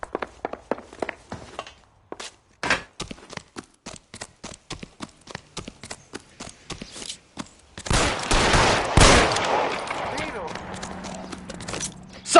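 Gunshots in the L.A. Noire video game ring out as a string of sharp, separate cracks spread across the scene, then a dense, heavy burst of fire near the end.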